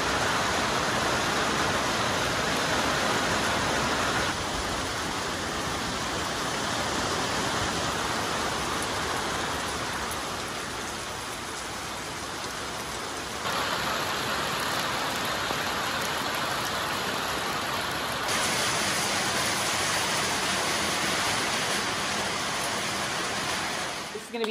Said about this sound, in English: The wind is blowing like crazy and the rain is another level.